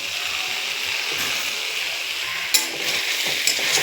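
Ridge gourd sautés in a pan with a ground paste of tomato, onion, green chili and ginger for a snakehead fish curry. The pan gives a steady, close sizzle broken by a brief scrape or clack of stirring.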